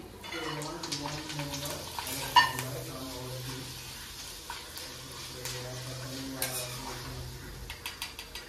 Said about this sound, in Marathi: किस तळून दाखवते, असं थोडासा टाकायचा कारण तो फुलतो ना।